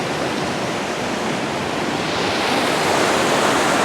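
Fast-flowing rapids on the Koiteli River in Finland roar as a loud, steady wash of rushing water, constant and unbroken with no voices.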